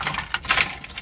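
A bunch of keys jangles in the ignition of a Komatsu PW170 wheeled excavator, a short close metallic rattle with bright clinks, heard alone.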